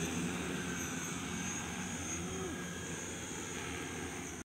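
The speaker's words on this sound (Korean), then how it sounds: "시동 하나, 둘, 셋, 넷, 다섯, 여섯 프로펠러 회전 이상무" An unmanned multicopter drone's propellers spin up and hold a steady, even whine and whir, a continuous layered drone of rotors heard from nearby with no talking.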